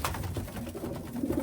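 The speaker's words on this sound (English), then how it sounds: "Pigeons." Moulting pigeons coo in a dusty loft, soft low throaty calls repeating steadily through the short stretch with no talk over them.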